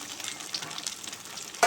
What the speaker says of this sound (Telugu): ఒక 2 స్పూన్లు ఆయిల్ వేసుకొని ఒక్కొక్క పీస్ని మనం వేయించుకోవాలి